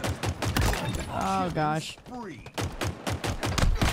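Rapid gunfire bursts in a video game, loud and repeated at the start and end, with someone talking and exclaiming over the shots in the middle.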